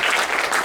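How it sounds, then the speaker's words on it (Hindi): Audience applause for children in black kurtas who have just performed a play, a dense, steady burst of clapping heard close and loud without a break. "इनके लिए तालियां।"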